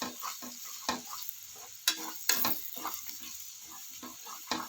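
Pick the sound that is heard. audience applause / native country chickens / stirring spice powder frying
stirring spice powder frying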